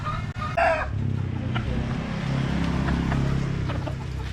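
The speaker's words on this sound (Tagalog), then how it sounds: "So ito yung isang magiging broodcock natin, gagamitin natin na materyales." A Boston Gold broodcock rooster crows once loudly and close, then clucks and murmurs softly over a low background hum.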